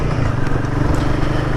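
Royal Enfield Guerrilla 450, a big single-cylinder motorcycle, thrumming loudly and continuously under riding, with wind rush over the engine's low throb.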